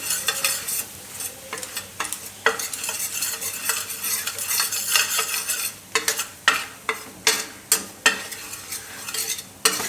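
Maida flour roasting and being stirred in a pan over a low gas flame, with a steady soft sizzle and repeated scraping strokes of the spoon that grow sharper and more rhythmic toward the end; no talking.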